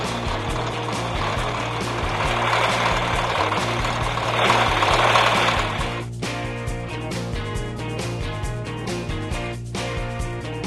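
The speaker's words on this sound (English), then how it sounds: "This is our tree planter going through the field at breakneck speed." Tree planter machine pulled through a nursery field during spring planting, its engine droning steadily with a knocking rumble throughout, loud and close, with no voices.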